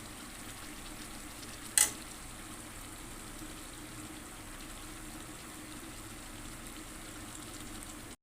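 Spice masala cooks down in oil with meat and potato, giving a quiet, continuous sizzle and one sharp clink partway through, with nobody talking.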